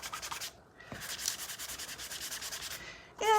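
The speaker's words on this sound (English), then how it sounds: "You can use regular old sandpaper if that's what you have." A geode is rubbed with a sanding block, giving a steady, close scratchy rasp in repeated back-and-forth strokes with a brief pause near the start, and no talking.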